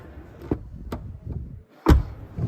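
A 2022 Škoda Enyaq SportLine door is handled, giving a few light clicks and taps and then one firmer dull thud as it shuts, close by and fairly quiet.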